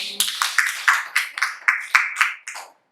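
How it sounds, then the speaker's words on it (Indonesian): A small classroom audience gives a short round of applause for a group presentation: about ten distinct, close, fairly loud claps in an uneven rhythm, ending abruptly. "Silakan beri aplaus dulu"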